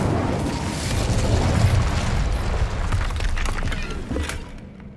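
An Incendio fire spell cast in Hogwarts Legacy, a rolling, roaring burst of flame with crackling debris that swells and then fades over a few seconds.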